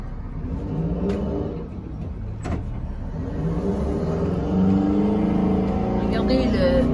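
A GMC bus engine runs with a steady low rumble throughout, rising slightly in the second half, with faint speech in the background.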